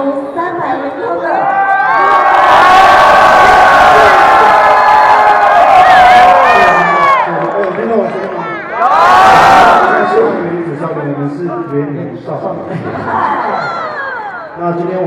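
A large crowd cheers, whoops and shouts in loud sustained waves to welcome a baseball player, with a second surge partway through over a continuous background roar.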